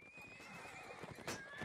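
Horses neighing and hooves clattering amid a Mount and Blade medieval battle, a drawn-out whinny over busy clip-clop and battlefield noise, fairly close with a louder burst near the end.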